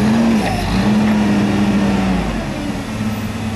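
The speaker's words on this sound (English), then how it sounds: "Once again, this is a forklift 2005 Toyota model 7FGCU20." A recently tuned, LP-powered 2005 Toyota 7FGCU20 forklift with a 4,000 lb capacity and cushion tires runs nearby. Its engine gives a steady, even idling drone with a low hum throughout and no speech.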